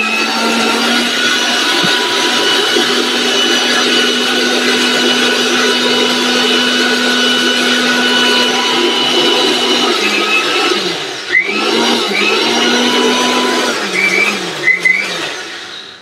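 A high-power BMW blender grinds rice into powder with a loud, continuous motor whine that holds steady, then wavers and shifts pitch near the end as the load changes.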